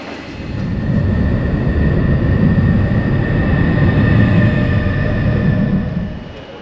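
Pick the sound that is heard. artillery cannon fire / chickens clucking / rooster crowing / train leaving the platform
train leaving the platform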